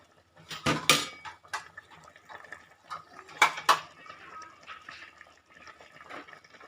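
Pork curry with dill and mixed vegetables is ladled from a pot into a bowl, with scattered clinks and scrapes of utensil on dishware, soft liquid pouring, and faint sounds between.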